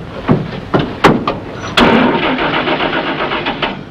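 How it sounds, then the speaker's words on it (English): An army truck engine cranks with several sputtering starter bursts, then catches and settles into a loud, steady idle, close up with no voices. "There's nothing wrong with this truck. Step on a starter."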